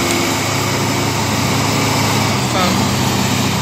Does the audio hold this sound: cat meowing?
no